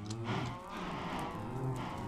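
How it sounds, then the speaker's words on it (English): Cows in the video game Minecraft mooing as they take damage and die, a pair of quick, low moos overlapping in close succession, steady and moderately loud. "All the cows are dying."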